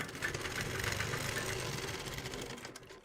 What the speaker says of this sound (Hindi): तो हमने इसी तरह से सिलाई लगाते हुए ले जाना है।